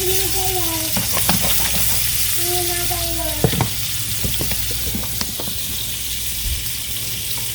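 Chopped Vidalia onion sautés in salted butter, a continuous crackling sizzle with stirring clinks and scrapes, accompanied by a few brief whistly tones and some running-water sounds.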